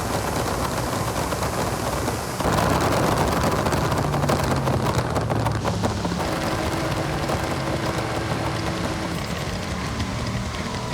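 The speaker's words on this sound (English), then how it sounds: "heavy rain completely transforms the drive" Heavy rain pours down in the racing video game Forza Horizon 6, a dense, steady hiss of drops drumming on the road that swells louder partway through, with faint engine hum and low tones beneath.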